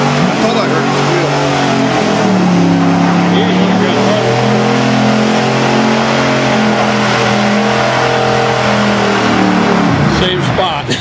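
A pulling truck's engine roars loudly and continuously at a truck pull in Evart, pitch rising and falling under strain, with crowd voices mixed in before it cuts off near the end.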